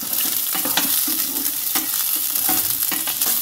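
Sliced onions and bell peppers fry over a high flame for a chilli chicken gravy, a steady loud sizzle broken by repeated scraping stirs of a spoon against the pan, with no voices.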